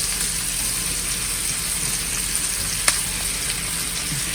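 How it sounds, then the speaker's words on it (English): Onions and mushrooms frying in butter in a pan, a steady close crackling sizzle with a single brief clink partway through. "Now I'm gonna add in my onions. And my mushrooms."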